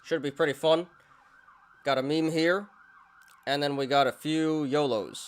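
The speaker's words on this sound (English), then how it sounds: "Sorry about the sirens, guys." Emergency vehicle siren wailing outside, a steady mid-pitched tone audible faintly in the pauses between a man's speech close to the microphone.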